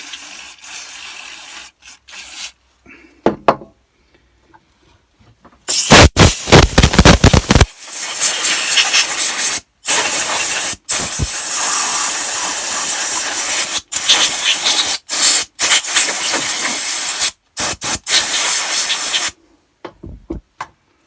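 Compressed air blasts debris off a part from a Ryobi hedge trimmer in bursts, loud hissing jets of varying length separated by short pauses, close by with no talking.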